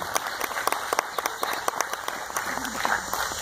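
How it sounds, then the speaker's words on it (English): Dense applause from a live band concert audience, steady crackling claps sustained throughout at moderate loudness. "Give a round of applause."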